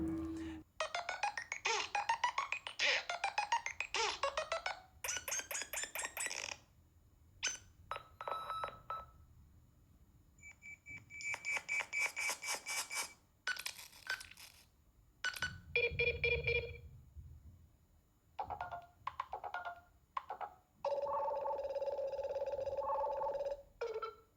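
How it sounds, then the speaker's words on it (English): A sequence of short electronic ringtones and beeps from the Nothing Phone's Glyph ringtone pack added in the Android 13 update, each a brief patterned melody separated by gaps of silence, clean and close. "the Glyph ringtones, they've gotten an extra pack. Here, take a look."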